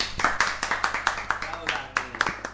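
Applause at an Italian web radio show, a small group clapping in quick uneven bursts, close and moderately loud, with a voice talking under it.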